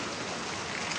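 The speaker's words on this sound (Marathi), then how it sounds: "पाऊस आहे थांबा जरा." Steady rain falls outdoors at night during a ride near the sea, a dense continuous hiss of drops with no break, fairly close and even in level, with no voices.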